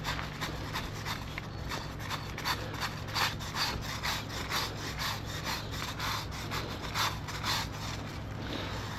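A small hand scraper is pushed back and forth over a driveway to lift moss, making a steady run of close, gritty rasping strokes in an even rhythm over a faint background hum.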